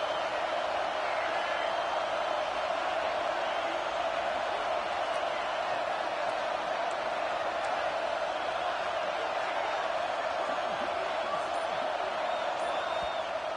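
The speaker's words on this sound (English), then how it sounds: "The Buckeye crowd alive on third down." Stadium crowd at an Ohio State Buckeyes football game roars on third down, a dense, steady wall of cheering and noise sustained throughout without breaks.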